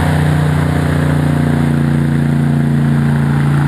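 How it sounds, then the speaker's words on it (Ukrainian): A hovercraft rescue boat's engine runs at a loud, steady drone with a constant low hum and no pauses, close by and without speech. "Човен на повітряній подушці призначений для експлуатації будь-якої пори року."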